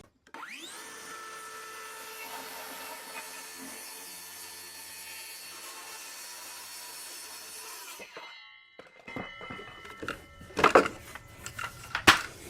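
Power saw cutting a ripped plywood piece to length for a workbench, a steady high whine spinning up and running for several seconds, then winding down into clattering wood handling and knocks.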